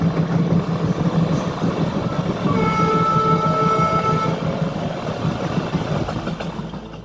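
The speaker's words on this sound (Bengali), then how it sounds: "আমার ট্রেন পুরী এক্সপ্রেস তো এসে গেছে, আর আমিও বেশি সময় নষ্ট না করে ট্রেন ধরে রওনা দিয়ে দিলাম পুরীর উদ্দেশ্যে" Puri Express passenger train rolling along, a steady loud low rumble of wheels and carriages with a brief tonal whine partway through, no talking.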